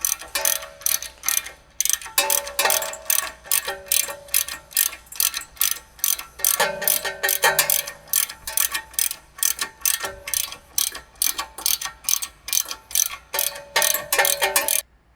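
A ratchet wrench clicks rapidly and steadily up close, tightening Steeda control arm bolts on a 2005-2009 S197 Ford Mustang, its pawl rattling in quick bursts with brief pauses between strokes.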